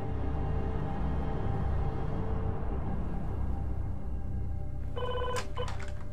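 A telephone bell rings out in short bright bursts near the end, following several seconds of loud, steady background noise with no talk.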